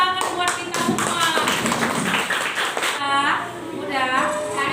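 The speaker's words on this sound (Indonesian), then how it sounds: "tepuk tangan buat kita semua" A classroom of students claps together in quick, steady, loud bursts for a few seconds, followed by a teacher's voice speaking.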